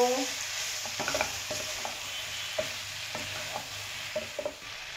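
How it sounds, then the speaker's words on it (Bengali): A constant hiss of unripe jackfruit frying in mustard oil in a pan, punctuated by light, scattered scrapes and taps of a utensil stirring. "ইঁচড়টা একটু ভাজা ভাজা হয়ে যাক"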